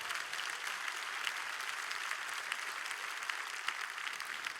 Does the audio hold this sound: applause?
yes